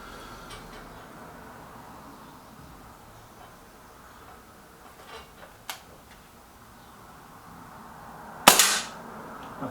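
A single sharp crack from a Walther Rotex RM8 air rifle near the end, after a long quiet stretch with a few faint clicks and handling sounds.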